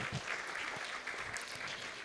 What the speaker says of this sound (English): So please give a round of applause to Michelle,